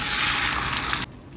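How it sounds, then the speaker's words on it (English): Scrambled eggs are poured into a hot pan, giving a loud, broad hiss and sizzle that stops abruptly after about a second and leaves quiet. "Step four, pour the scrambled eggs in the pan."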